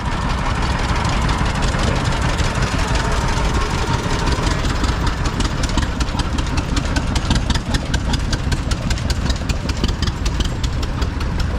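A Minneapolis tractor engine idles smoothly at a steam and tractor show, a loud, close, steady mechanical rumble with even firing pulses throughout and no voices.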